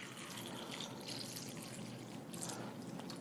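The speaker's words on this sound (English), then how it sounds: "we're just going to simulate that by pouring some tap water in here" Tap water pours into a container in a quiet, continuous, faintly splashing trickle, close and steady throughout, with no talking.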